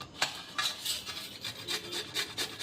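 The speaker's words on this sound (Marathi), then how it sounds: "आता आपण हा कद्दू किसून घेऊयात" Peeled bottle gourd being grated by hand, a steady run of rhythmic rasping strokes, close and fairly quiet, with no talk.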